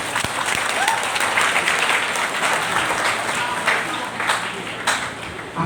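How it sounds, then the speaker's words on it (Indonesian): Continuous applause from an audience at a student orientation event, a dense, steady wash of many hands clapping that holds for several seconds at full strength. "Beri aplaus"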